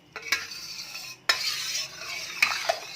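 Beetroot juice stirred into homemade rose syrup, heard as a spoon swishing and clinking against a vessel up close, with a few sharp metallic taps between the swirling strokes.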